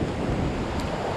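Strong sea waves at a winter fishing spot, a constant loud wash of surf with wind noise buffeting the microphone, no voices.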